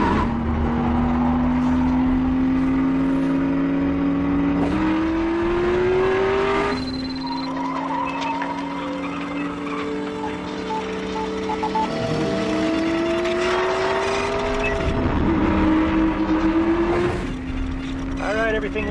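A brand new race car engine revs loud and close in repeated rising pulls, each climbing in pitch then dropping back, with a few sharp bursts and voices talking over the roar.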